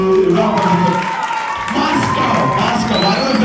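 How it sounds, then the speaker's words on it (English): Audience applause and cheering at the 2015 OOU Fashion Awards ceremony, a dense continuous wash of clapping and shouts from a large crowd that stays loud throughout, with voices rising through it. "Give a round of applause for Mr."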